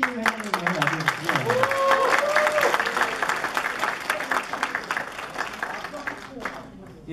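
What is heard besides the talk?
audience applause for the new president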